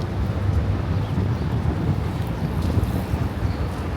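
Strong wind buffets the microphone at the Ariga night market, a constant rough low rumble with gusty fluctuations and no talking.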